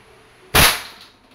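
A Crosman 2240 bolt-action CO2 airgun fires a .22 pellet into a Del Monte sardine can, giving one sharp, loud crack with a brief metallic ring that fades quickly, with no talk.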